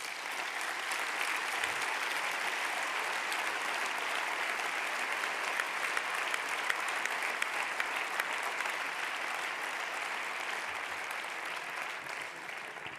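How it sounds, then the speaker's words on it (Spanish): Long, loud, sustained applause from the delegates at a regional PP party congress in Aragón, dense and continuous from start to finish with no speech on top. "os pido un fuerte aplauso para todos ellos"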